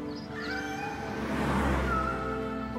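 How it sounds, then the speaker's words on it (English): A cat meows in a short, clear, rising-and-falling call, close and fairly loud over a low rumbling background. "there lived a unique purple-furred cat named CatNap"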